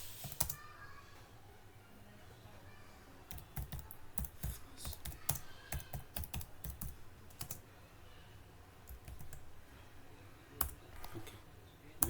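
Fingers type code on a computer keyboard in quick, irregular bursts of close clicks and key taps, with no voices.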